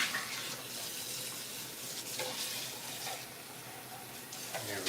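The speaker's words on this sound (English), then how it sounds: "Right now I'm just busy rinsing out this can from the tomatoes here." Water from a kitchen tap runs steadily into an empty tomato can being rinsed out, a continuous splashing wash with brief bursts of stronger spray near the end.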